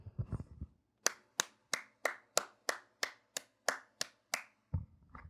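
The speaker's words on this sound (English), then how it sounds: "Just give it a good clap." One person claps hands twelve times in a steady, evenly spaced rhythm, sharp and close, after a short bit of low murmur at the start.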